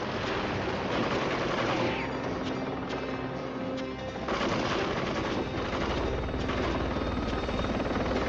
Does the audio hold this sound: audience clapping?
no